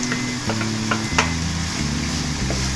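Onion and capsicum sizzle in a pan for chicken Chinese rice, with a steady fry broken by several sharp scrapes and clinks of a spatula stirring against the metal, close and loud with no talking.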